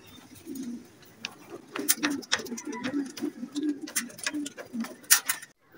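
Racing pigeons arriving home after a 97 km race in Talavera, Nueva Ecija coo in repeated low, throaty phrases, close by, mixed with sharp clicks and taps.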